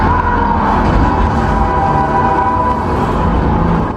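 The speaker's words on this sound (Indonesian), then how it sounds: "langsung tertabrak oleh kereta yang sedang melaju dengan cepat" A speeding train in the horror film Tarot (2024) roars past with a loud, sustained rumble and a steady horn-like tone held throughout.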